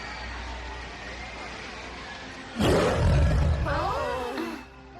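A cartoon panther lets out a single loud, rumbling roar partway through, cutting in over quiet background ambience and trailing off into a brief wavering vocal sound.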